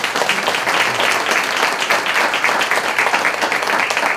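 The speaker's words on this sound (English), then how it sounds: "Can we give them one round of applause?" Audience at a school board meeting gives a sustained round of applause, dense steady clapping filling the room at fairly loud level for several seconds.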